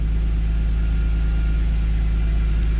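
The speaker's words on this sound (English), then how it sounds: "You can hear it in the idle. And just as I say that, it's stumbling." A 214k-mile Dinan BMW E46 M3 engine idles with a stumble, a loud, close, continuous low rumble that stays steady throughout.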